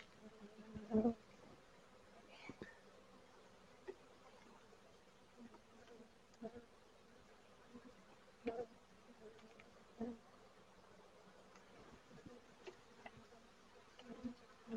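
Honey bees buzz around an open Flow Hive during an inspection, a faint steady hum with brief louder passes as single bees fly close, and no talk over it.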